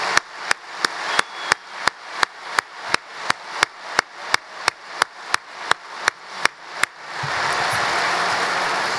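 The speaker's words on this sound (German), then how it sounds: "So viel Emotion und so viel Überzeugung verdient einen Applaus." Members at a Hamburger SV (HSV) members' meeting in a hall clap in slow, evenly spaced unison, about twenty sharp beats. The clapping then breaks into a dense, continuous wash of applause.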